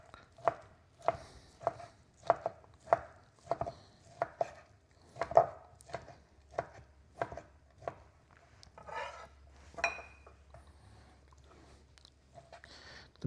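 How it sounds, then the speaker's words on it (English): A knife slices raw chicken breast on a cutting board, a series of crisp evenly spaced thuds about every half second, close and clear with no talk. "So our breast meat, what I'm doing with this is just going to slice it."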